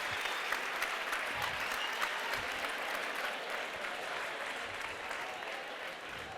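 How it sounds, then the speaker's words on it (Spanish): An audience in a lecture hall gives a sustained round of applause for Manuela Carmena. The dense clapping stays loud and even throughout, with faint crowd murmur beneath it. "Aplausos, aplausos, aplausos a Manuela"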